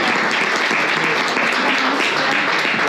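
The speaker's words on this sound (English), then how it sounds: "big applause to them" An audience at a gaming technology summit applauds conference panelists, with sustained, dense clapping filling the whole stretch at steady volume, no voices standing out.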